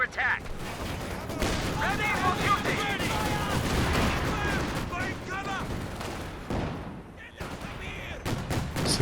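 M1919 machine gun and mortar fire in Company of Heroes 2: dense bursts of automatic gunfire and heavy booms crackle almost continuously, loud and layered, with a brief lull near the end before more shots.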